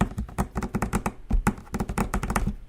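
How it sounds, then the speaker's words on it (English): Rapid keyboard typing clatters steadily throughout, a dense run of close, crisp key taps with no speech. "I love the little typing in the background"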